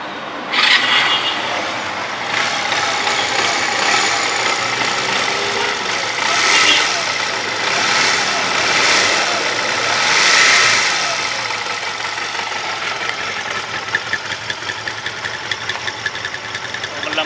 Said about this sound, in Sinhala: ඔන් කරලා බලමු මේ සද්දේ කොහොමද තියෙද්දි